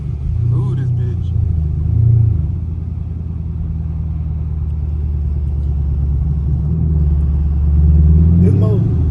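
A catless Chevrolet Camaro SS V8 drones loud and steady as the car drives through snow. A deep, constant exhaust rumble swells slightly near the start and again near the end, with faint cabin noises on top.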